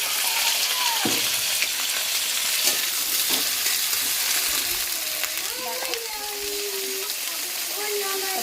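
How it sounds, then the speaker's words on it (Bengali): Malabar spinach and potato sizzling in hot oil, a steady close frying hiss with stirring scrapes, while a voice talks intermittently over it. "বন্ধুরা আমার তো তেলটা গরম হয়ে গেছে, এবার আমি এখানে পুঁই শাক আর আলুটা দিয়ে দেবো।"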